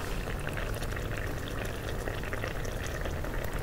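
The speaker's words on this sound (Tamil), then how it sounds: "இப்போ திருப்பி விட்டேன், ரெண்டு பக்கமும் கொதிக்குது." Steady bubbling of a pot of Kerala fish curry simmering in coconut milk, a continuous close-up hiss and gurgle with no talking.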